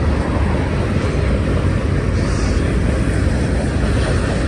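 Deep, steady rumble of an EMD locomotive working as a pusher on the rear of a long Union Pacific manifest freight climbing the steep grade to Cajon Pass, loud and continuous with no talk.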